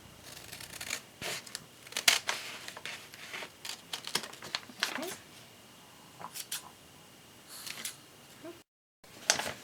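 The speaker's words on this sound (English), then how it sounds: "Snip on the other side." Scissors snip through a newspaper gift bag near its seam in a series of short, crisp cuts with paper crinkling between them, close by, under soft intermittent talk.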